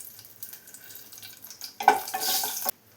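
Dried red chilies drop into hot coconut oil in a pan, a bright sizzle bursting up suddenly after quiet handling noises and holding for about a second before cutting off.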